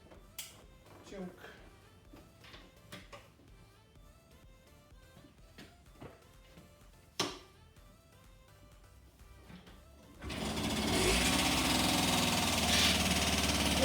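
A 1988 Yamaha YSR motorcycle, its carburetor just cleaned, is kick-started after quiet clicks and handling noises; the small engine catches about three-quarters through and runs loud and steady to the end, with voices heard beforehand.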